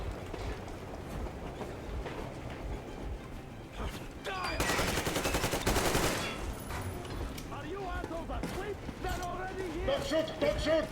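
Gunfire in Metro Exodus rings out as a heavy, sustained burst of rapid shots at mid-clip, surrounded by quieter background noise, with voices speaking before and after it.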